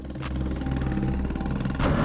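Close, steady revving of a Yamaha YZ85 dirt bike's small two-stroke engine on closed roads in Thailand, a buzzy droning note that swells slightly near the end.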